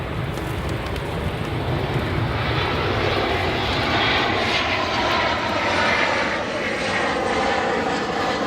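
A Boeing 737 arrives at O'Hare airport with a loud, sustained roar of jet engines and broadband rushing wind noise that swells and eases slightly as the aircraft passes.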